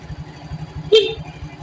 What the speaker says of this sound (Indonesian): Kita coba klakson.